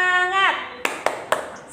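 Children on an online fourth-grade class call clap a cheer rhythm: three sharp claps, evenly spaced, following a sung voiced phrase.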